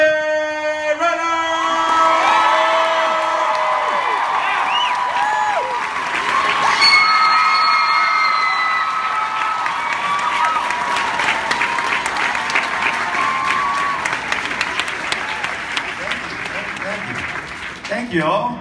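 A Comic-Con convention crowd in Chicago greets Jeremy Renner with sustained loud applause, cheering and whoops, while an amplified voice speaks over the start and the clapping continues steadily for nearly twenty seconds.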